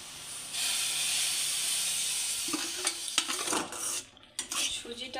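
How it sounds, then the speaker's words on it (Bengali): Fried semolina is tipped into hot melted sugar in a pan, setting off a loud, close sizzling hiss, followed by scraping and clattering stirring against the pan. "এখন দিয়ে দেব আবারও সেই ভাজা সুজি।"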